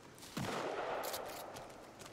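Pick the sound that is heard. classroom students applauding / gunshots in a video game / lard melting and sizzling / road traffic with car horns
gunshots in a video game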